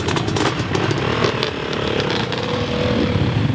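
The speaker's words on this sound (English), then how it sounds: "Ignition, key, neutral, electrical, and then crank it." A motorcycle engine runs steadily after being cranked and started, producing a loud, close, continuous buzzing rumble throughout with no talk.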